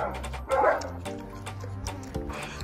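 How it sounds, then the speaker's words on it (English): A dog yelps and barks a few times in short bursts, fairly close, with soft whimpering sounds between them. "See this dog."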